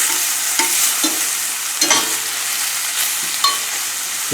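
Sausage and shrimp frying together in a pan, a steady close sizzle with a few soft stirring clinks and scrapes at intervals, no talking.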